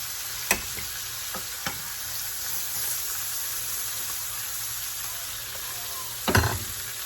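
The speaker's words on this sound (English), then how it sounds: "So I'll stir all that up" Garlic frying in a pan while being stirred, a steady soft sizzle running throughout with a few sharp clicks of a utensil against the pan, the loudest knock near the end.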